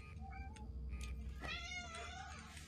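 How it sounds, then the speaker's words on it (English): A wild cat cries with faint, drawn-out meows in the game Alien: Isolation, sounding distant and quiet over a low ambient hum. "There's a wild cat crying."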